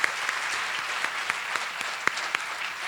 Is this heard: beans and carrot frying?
no